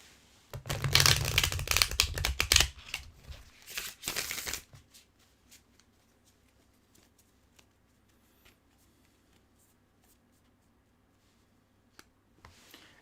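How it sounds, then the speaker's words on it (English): A tarot deck being riffle-shuffled by hand, a loud dense rapid flutter for a few seconds, then a sharp bridge snap and soft scattered taps and card handling in a quiet room. "we're going to ask the cards to be in order for Jordan in 5 shuffles"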